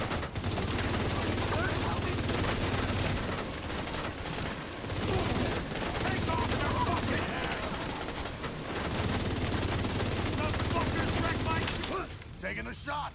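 A minigun in a video game fires in a sustained, dense roar of rapid gunfire for several seconds with brief breaks, mixed with a voice talking over it.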